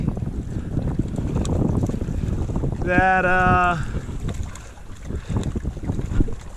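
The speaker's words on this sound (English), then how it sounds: "it has gotten so windy" Strong gusty wind at a mountain lake rumbles against the microphone throughout, with a person briefly speaking in the middle.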